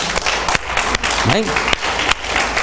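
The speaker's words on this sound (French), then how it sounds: "On va donner un grand applaudissement à ceux qui nous écoutent par Internet." A church congregation applauds in a thick, steady wash of claps with a few sharper hits, while a voice rises briefly above the noise partway through.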